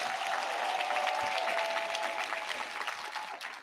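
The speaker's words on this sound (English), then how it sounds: "Give a hand clap to our military tigers." Steady applause from an audience at a National Academic Signing Day ceremony, a dense even clatter of many hands that holds for several seconds and tapers slightly at the end.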